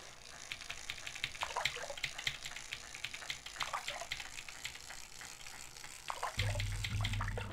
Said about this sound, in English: So this is like water.